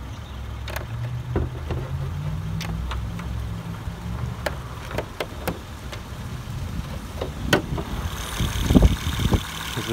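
A 2012 Acura TL SH-AWD's 3.7-liter V6 engine idles nearby with a steady low rumble, punctuated by a few sharp clicks and taps.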